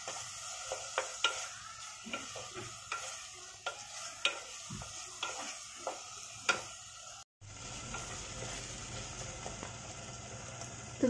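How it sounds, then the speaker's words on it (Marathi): Tomatoes sautéed with masala in a pan for a cauliflower and potato curry, with a steady soft sizzle under repeated rhythmic scrapes and taps of a stirring spoon, close by and with no talk. "टोमॅटो देखील चांगला परतून घ्यायचा."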